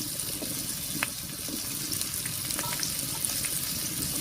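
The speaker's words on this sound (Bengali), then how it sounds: "প্রথমে দিয়ে দিচ্ছি কয়েক কোয়া রসুন," Garlic cloves fry in hot oil in the cleared middle of a pan beside mashed sweet pumpkin, giving a steady close crackling sizzle throughout with a few sharp pops and spatters, no voices.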